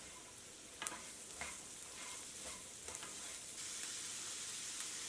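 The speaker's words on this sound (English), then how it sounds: "Mix it well." Black chickpea chaat is stirred with black salt, red chili powder and sugar, giving a steady soft scraping and mixing texture with a few sharper clicks of utensil against bowl, close and alone.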